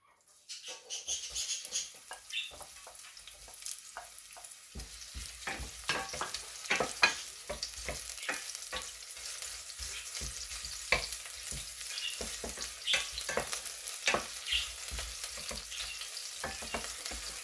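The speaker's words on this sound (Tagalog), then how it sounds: "And of course, saute first the onion" Chopped onion sauteing in a pot for chicken soup, a soft building sizzle with frequent clinks and scrapes of a stirring utensil against the pot, close and moderately loud, no speech.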